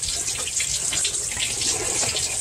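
Water from a hose runs steadily through an engine radiator during a coolant system flush, a continuous close splashing rush with no talk.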